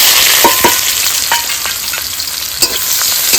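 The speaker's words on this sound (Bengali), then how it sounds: "এবার লাউ শাকটা ভেজে নেব" Onion and garlic fry in hot oil for bottle gourd greens, a loud continuous sizzle broken by several sharp clicks and scrapes of a spatula stirring in the pan.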